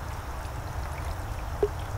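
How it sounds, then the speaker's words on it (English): Water is poured onto bonsai soil, a soft, continuous trickling and gurgling with a single brief drip-like plink near the end, fairly quiet and without talk. "Now, that water is already about to run through, and we'll repeat the process."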